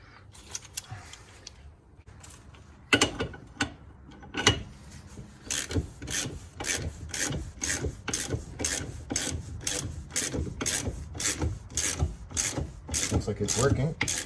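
Ball joint being pressed out of a steering knuckle by tightening a nut with a ratchet, the pinch bolt set upside down between them: a steady run of clicking ratchet strokes and metallic rasping, close up, quickening after a few seconds.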